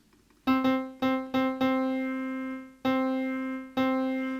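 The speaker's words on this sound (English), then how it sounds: "So it's literally just a piano sound, but a pretty crappy sounding piano" A plain, thin-sounding electronic piano from the Serato Hex FX plugin plays a handful of single notes at an uneven pace, each striking sharply and decaying, with no other sounds.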